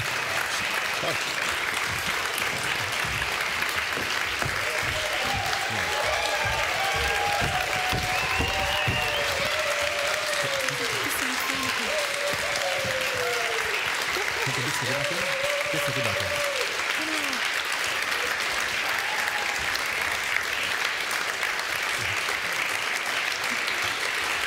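Sustained audience applause fills a film festival screening hall for Super 8 expanded cinema, a dense, steady wash of clapping with scattered voices and faint calls rising through it.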